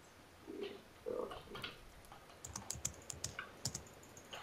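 Fingers type on a computer keyboard with quiet, irregular clicks and taps, close up and faint, some keystrokes in quick bursts, with a few soft mouth or breath sounds in the room.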